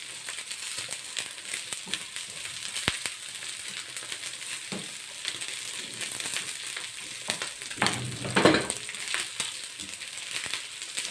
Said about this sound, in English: So just allow this onion to cook with the oil